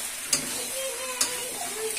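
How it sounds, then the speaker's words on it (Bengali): Food sautéing in a pan as it is cooked down near the end of cooking, a steady close sizzle with two sharp spatula clicks against the pan. "এখন মা এটা আবার একটু কষিয়ে নিচ্ছে"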